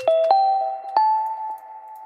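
An Omnisphere synth preset, In Memoriam 2, plays a few bell-like struck tones with sharp attacks that ring out into sustained, slowly fading notes, clear and alone.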